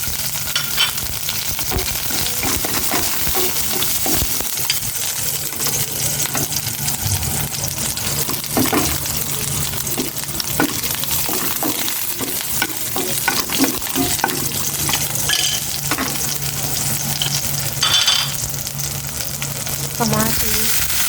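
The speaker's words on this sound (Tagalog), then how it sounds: "Nagigisa na ako ng bawang," Garlic and onion sauté in a hot pan with steady loud sizzling and frying, and stirring scrapes come and go throughout; no one speaks.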